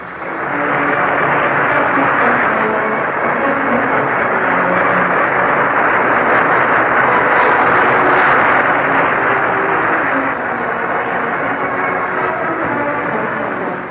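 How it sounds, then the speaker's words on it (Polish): A rocket-powered aircraft of new design streaks past at high speed during a 1946 Moscow air show, heard as a loud, steady roaring rush of engine noise that holds for the whole stretch, with no talk over it. "Ogólną sensację wzbudził samolot rakietowy najnowszej konstrukcji. Rozwija on, jak widać, niezwykłą szybkość."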